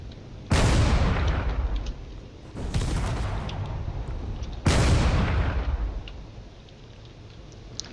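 Cannons in a video game fire three heavy booming blasts at a frigate, evenly spaced a couple of seconds apart, each with a long rumbling decay, with faint ticking in between.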